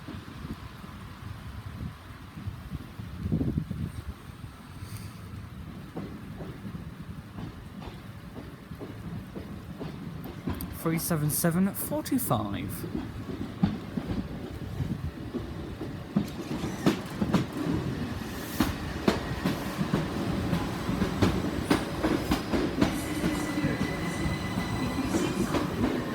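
A Southern train pulls into platform 1 at Eastbourne station, a low rumble building as carriages roll in with clattering wheels and brief squeals, growing louder and closer toward the end.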